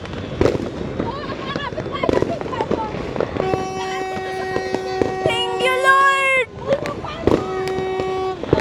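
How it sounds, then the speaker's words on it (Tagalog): Sharp bangs and crackles of New Year's fireworks in Lipa pop repeatedly under excited shouting, while a long, steady horn-like tone sounds in the middle. "This year, fireworks!"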